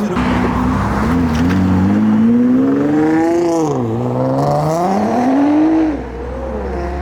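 A modified car revs hard, its engine note climbing and falling in sweeping harmonics, the exhaust valves open and blaring loud and close, before the pitch drops to a steady idle near the end.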